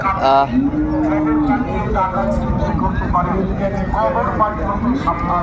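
A dairy cow lets out a long, loud moo nearby at a cattle market, followed by further lowing calls mixed with people talking over a steady background rumble.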